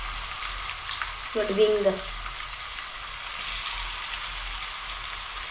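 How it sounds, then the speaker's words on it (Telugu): Chicken pieces fry in butter in a pan over a medium flame, making a steady close sizzle. A voice briefly says a word partway through. "ఇప్పుడైతే చికెన్ పీసెస్ ఫ్రై చేసుకుందాము"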